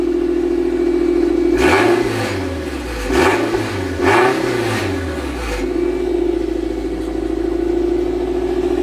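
A Toyota MR2 Spyder engine with a gutted muffler idles loudly, then revs up three times in quick swells before settling back to a rough, throaty idle.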